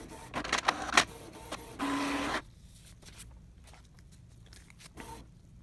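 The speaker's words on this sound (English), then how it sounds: "We used the printer's built-in cartridge cleaning routine twice." A Canon inkjet printer running its built-in cartridge cleaning routine: a few short mechanical clicks and whirs, a steady motor buzz lasting about half a second, then quieter intermittent ticks and one last clunk.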